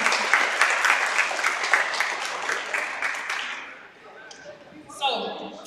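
Crowd applause at an alumni basketball game in a gym, steady clapping for about three seconds that fades out, followed by brief noise and a voice.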